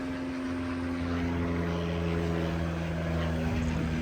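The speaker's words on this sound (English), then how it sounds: "And then you've got a plane up there" A propeller airplane flying overhead, a steady droning hum that holds evenly throughout, fairly prominent against outdoor background noise.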